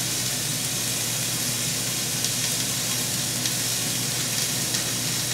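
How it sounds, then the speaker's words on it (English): Ground beef and sausage browning in a hot pan, a steady dense sizzle with a constant hiss throughout and a few faint scrapes of stirring, close and fairly loud. "beef and put it in there along with your sausage, and you want to brown it up"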